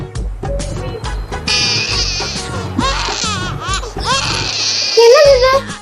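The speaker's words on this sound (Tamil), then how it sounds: "ஏதோ குழந்தை அழுவுற மாதிரி சத்தம் கேக்குது" A baby cries in wavering, bleating wails that rise and fall over several seconds, loud and close, mixed with other thumps and noise.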